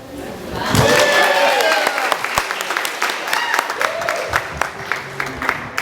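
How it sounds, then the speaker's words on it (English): An outdoor crowd at the LA Chinatown Hungry Ghost Festival applauds the pageant's Miss and Mr. Chinatown with loud, sustained clapping, rising whistles and cheers, and voices talking throughout. "Gonna give them one more round of applause."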